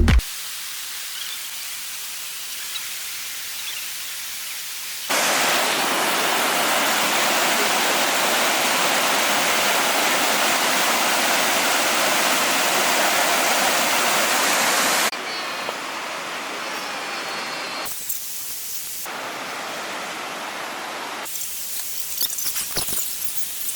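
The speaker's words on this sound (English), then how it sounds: "You got the Merced River running through the canyon." Merced River rushing through a Yosemite canyon, a loud, dense broadband roar of flowing water that swells louder midway, then drops back with brief gaps.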